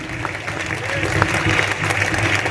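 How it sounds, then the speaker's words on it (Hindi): Steady, crowd-wide applause at a Hindi poetry event, with many hands clapping at once in a dense, continuous wash heard from within the hall. "तालियां कमजोर है मेरे कांकरोली, मेरे राष्ट्रमंद।"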